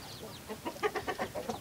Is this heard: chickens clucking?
yes